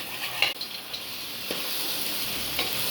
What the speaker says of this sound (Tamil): காளான் போட்டு கிளறிக்கலாம். நல்லா கிளறிக்கலாம்.